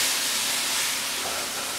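Hot cooked beef mince poured from a non-stick pan into a strainer, giving a close, steady hissing sizzle that holds without a break.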